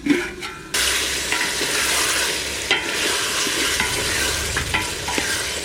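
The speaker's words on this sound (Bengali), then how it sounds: "এবার ঢাকাটা খুলে আমি একটু নাড়া দেবো।" Young goat meat curry cooked with potatoes in a handi, stirred after the lid comes off, giving a loud, close, continuous sizzle with bursts of scraping stirs and a few knocks against the pot.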